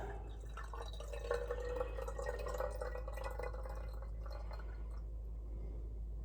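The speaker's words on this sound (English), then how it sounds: "But now I let this drain a little bit." Cold brew coffee draining from steeped grounds after about four days, a steady trickling and dripping of liquid with a low constant hum beneath, continuous and close, with no talking.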